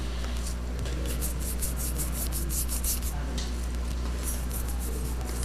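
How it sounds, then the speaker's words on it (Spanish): A soft-bristle brush spreads black paint over a sanded piece, giving a steady scratchy rubbing that runs continuously and close, with a low constant hum underneath. "vamos a dar una manito de negro con un pincel de cerda suave, así"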